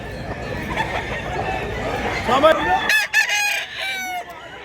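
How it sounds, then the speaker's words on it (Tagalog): Roosters and chickens at a chicken seller's stall in Cebu crow and cluck close by, with a busy mix of clucking giving way to a loud, drawn-out cock-a-doodle-doo and further crowing calls. "Iba-ibang klaseng manok."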